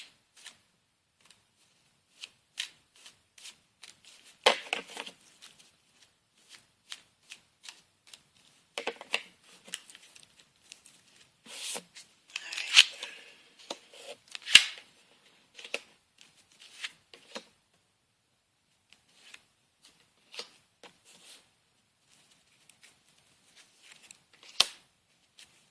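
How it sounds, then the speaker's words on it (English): Tarot or oracle cards are shuffled by hand in a quiet room, giving scattered soft riffling and flicking bursts with gaps of near silence between them, all fairly close and faint. "Shuffle these cards."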